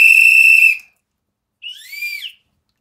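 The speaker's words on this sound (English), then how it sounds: "Little baby doll whistle." A baby doll toy whistle blown twice: a loud steady shrill tone, a pause, then a shorter wavering blast that bends up and down in pitch.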